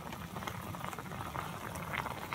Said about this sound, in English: Sizzling, or boiling.